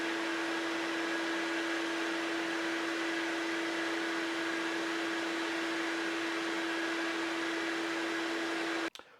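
A vacuum runs steadily through a 20-foot hose during an airflow test, giving a loud, constant whirring drone with a strong steady tone that holds unbroken for about nine seconds before cutting off abruptly.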